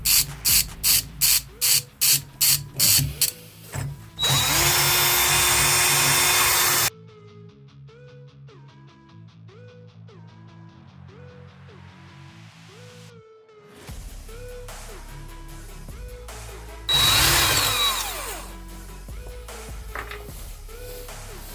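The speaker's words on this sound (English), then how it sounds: "now we need to remove all the screws, so there are like 10 screws," Tools work loose screws from the drive shaft housing of a BMW R60/7 motorcycle: a quick run of sharp ratcheting clicks, then bursts of loud hissing air, with a steady tonal background throughout.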